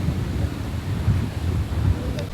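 Strong typhoon wind at a beach campsite, roaring and buffeting the microphone in continuous gusts with a low rumble, and voices faintly audible underneath.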